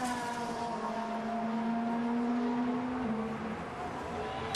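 Fernando Alonso's Formula 1 car sets off on a 2022 Spanish Grand Prix qualifying run, a sustained high engine whine holding steady pitch, then stepping down briefly near the end, heard at moderate distance.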